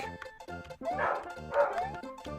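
A dog barks repeatedly in short, loud bursts with some yipping and whining, close by and alone with no talk, heard behind a Super Mario World hack game session.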